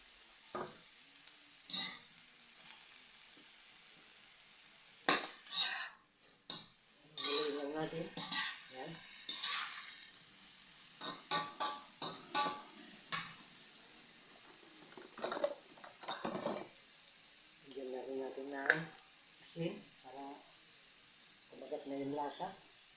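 Chayote and sardines sizzle in a pan, with intermittent stirring, clinks and scrapes of a utensil against cookware and short bursts of frying, while a person talks quietly at times.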